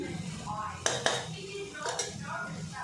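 Spice powders, turmeric, chilli and coriander, stirred in a pan for a chicken masala curry: a metal spoon scrapes and clinks against the pan twice in quick succession, then again later, under faint background hum.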